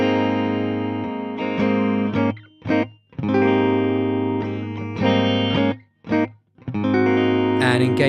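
A Telecaster plays through a valve amp into a miked 2x12 cabinet with the boost pedal bypassed. Loud, clean-to-crunchy chords and single notes ring out close, with short gaps of silence between phrases.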